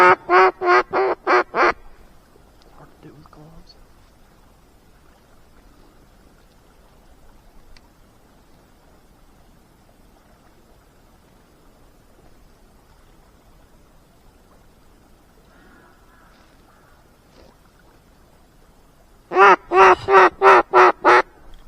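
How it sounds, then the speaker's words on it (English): Loud bursts of duck quacking open and close the clip, several rapid quacks each time, with a long quiet stretch of faint outdoor noise between, beside a frozen river. "there was one that flew too that was quacking"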